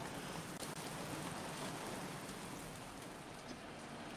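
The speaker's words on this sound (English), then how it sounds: "The heavy rain." Steady, dense rain from the video game Heavy Rain, a constant hiss of falling water with a faint low rumble beneath, even and unbroken throughout with no talking.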